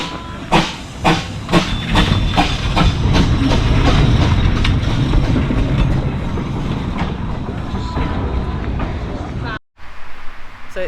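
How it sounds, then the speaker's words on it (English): A Lynton and Barnstaple narrow gauge steam train runs along its track in Devon, rhythmic chuffs and clattering wheels close by, with hissing steam and people talking over it. "So it's a narrow gauge railway track"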